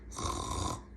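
A voice imitating a sleeping bear's snore, one drawn-out breathy rasping snore lasting about a second, fairly close and alone.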